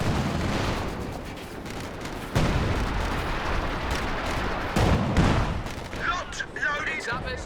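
ISG artillery barrage shots in the Company of Heroes 2 strategy game, heavy booming impacts landing in a loud continuous battle din, with a couple of sharper blasts standing out and a voice talking over it.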